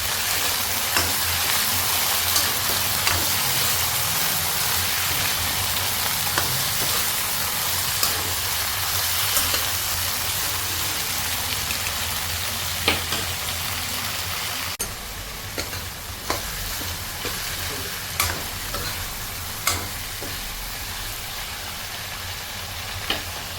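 Potatoes fry in a hot pan with a constant hissing sizzle, broken by occasional clinks and scrapes of a spatula stirring them, heard up close with no talking.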